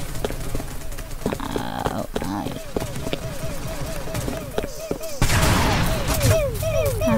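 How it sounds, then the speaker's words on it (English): Pew pew style gunfire from a Roblox Randomizer match, with repeated short shots scattered through, and a denser burst of firing near the end under game noise and a talking player. "Died by the guy with the pew pew gun"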